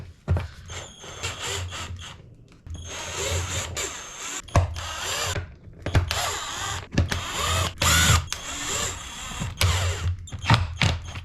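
Cordless power tool spinning off a ring of bolts on a motorcycle engine during a valve clearance check, heard as repeated short whirring bursts with ratcheting clicks and brief pauses between fasteners, close and fairly loud throughout.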